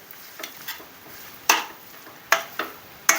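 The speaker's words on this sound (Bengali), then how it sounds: "একদম লো ফ্লেমে ভালো করে মাছগুলোকে ভেজে নিন।" Pangas (basa) fish and potato cutlet mixture cooking in a pan over low flame, with a soft steady sizzle beneath several sharp scraping and stirring clacks of a utensil against the pan, close and alone.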